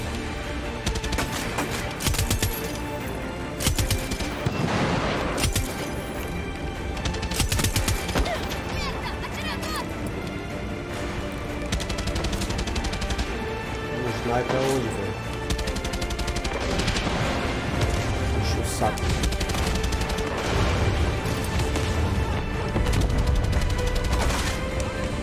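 Bursts of automatic and single gunfire ring out repeatedly during a ship battle in the video game Far Cry 6, loud sharp volleys spread across the stretch, with occasional voice in between.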